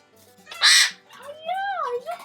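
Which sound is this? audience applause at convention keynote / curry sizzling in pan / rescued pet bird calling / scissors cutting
rescued pet bird calling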